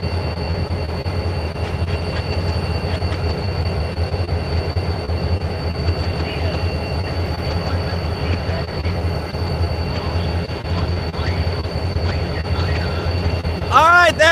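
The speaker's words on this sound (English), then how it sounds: "Our CSX locomotive and southbound train have crossed it." A CSX locomotive and southbound freight train roll past up close. Loud, continuous rumble and wheel noise fill the whole stretch, with wheel squeal rising at the end.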